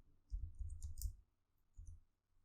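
Computer mouse clicks in SolidWorks CAD software, close and crisp: a quick cluster of several clicks, a pause, then a single click, with no talking.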